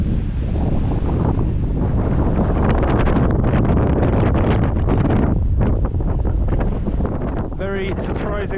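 Strong wind roars steadily across the microphone on the coast at Tromsø, with sea surf and waves rumbling underneath, loud and continuous throughout.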